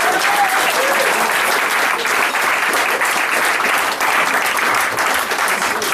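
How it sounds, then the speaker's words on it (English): A big round of loud, sustained applause from the audience at a UCLA reunion, dense clapping from many hands filling the room steadily for several seconds. "Let's give them a big round of applause."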